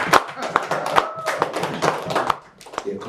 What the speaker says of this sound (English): Can we get a round of applause in here for Hall of Famer?